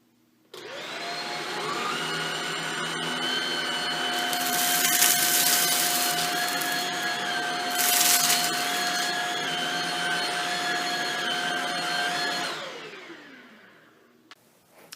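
Shark Rocket Complete vacuum cleaner running on carpet: a loud, steady whine that switches on sharply, swells twice as it is pushed across the pile, then winds down and fades at the end, with no talk.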